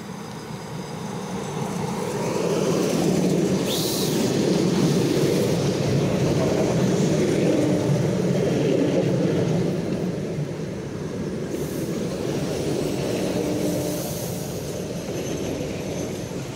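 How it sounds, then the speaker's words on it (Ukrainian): An ER9M electric suburban train pulls into a platform at Kyiv, a steady loud rumble of wheels and carriages rolling past with faint squeal, sustained throughout without talk. "До Київської платформи прибуває приміський поїзд з сполученням Пастівки."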